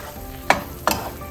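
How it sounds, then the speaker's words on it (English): A spoon stirs thick kalakand mixture with added cardamom powder, two short scraping strokes against the pan about a third of a second apart over a quiet background, no voices. "And then give it a mix."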